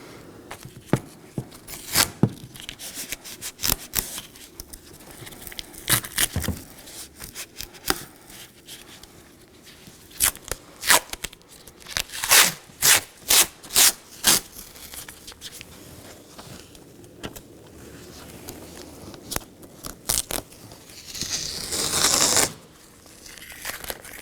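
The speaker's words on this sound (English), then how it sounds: "I'm going to go ahead and secure it with some masking tape" Masking tape torn from the roll in quick strips and pressed onto the glass of a 2018-2024 Chevrolet front power window held up in its door channel, giving a run of sharp rips and crackles with pauses between them.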